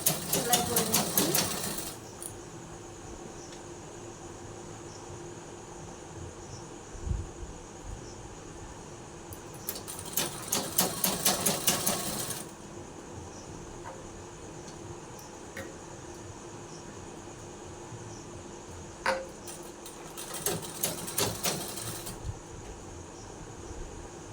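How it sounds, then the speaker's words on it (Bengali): A sewing machine stitches a nightie in three fast, buzzing runs of a few seconds each, fairly quiet and close, over a low steady background hum. "এইটাও কিন্তু সেম ভাবে আমি সেলাই করে নিচ্ছি।"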